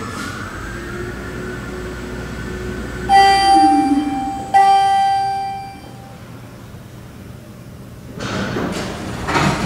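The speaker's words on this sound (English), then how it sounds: "Center open two-speed doors." Center-opening two-speed elevator doors slide in a traction elevator at the Nanoscience and Technology Building at UT Austin, with a rumbling glide and sharp metallic rings from the mechanism as the doors move, then quieter hum and a faint rustle.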